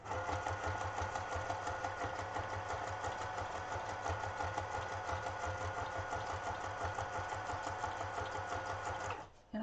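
A sewing machine stitching fabric in a craft session, a steady rapid mechanical chatter running loud and unbroken for several seconds before stopping abruptly at the end, with a voice speaking over it.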